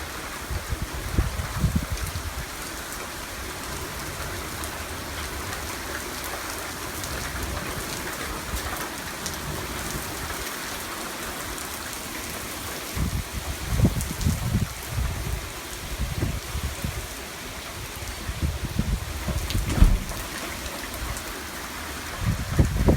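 Heavy torrential rain from a severe thunderstorm pours steadily on surfaces nearby, a dense continuous hiss with occasional louder splashes and low thumps.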